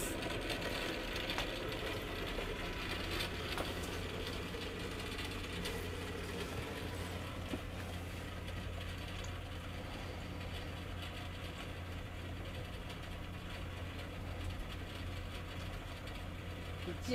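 A small motorized turntable that normally runs on a 1.5 V battery is driven on a 6 V adapter, giving a faint continuous motor whir and hum that holds steady throughout, close and quiet.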